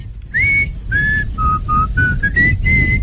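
Someone whistles a short melodic tune of about seven clear notes, close and loud, with faint background noise underneath.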